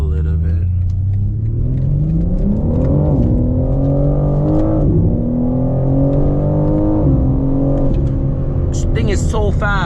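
2022 BMW M4 Competition xDrive launching hard in four-wheel-drive sport mode, its engine roaring continuously and climbing through the gears with steady rising pitch sweeps, heard close from inside the car while someone talks over it.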